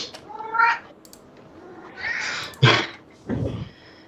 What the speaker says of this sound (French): mon chat qui miaule